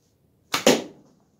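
An arrow loosed from a bow at a backyard target board: a single sharp release snap and brief swish followed at once by a louder thud, close and otherwise quiet.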